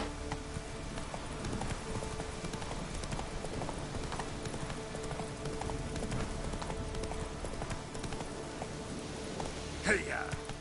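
A horse gallops in the Witcher 3 video game, with steady, rhythmic hoofbeats clip-clopping close and continuous throughout.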